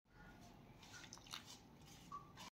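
Chakli flour dough is kneaded with hot water by hand, giving soft, quiet squishing and slapping sounds at close range with a few faint wet clicks.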